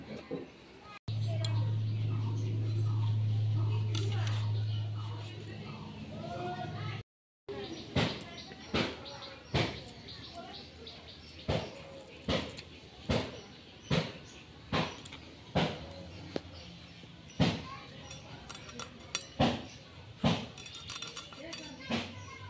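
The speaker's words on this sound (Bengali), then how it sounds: "তো চলুন মাছগুলোকে কেটে নিই" Native koi fish (climbing perch) being cut for cooking, a string of sharp knife chops and taps on a board coming in a steady, fairly regular rhythm after an opening stretch of talk.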